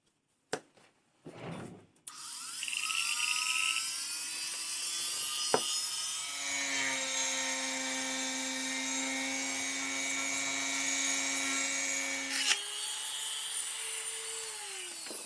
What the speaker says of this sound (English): I'm going to do a bit of carving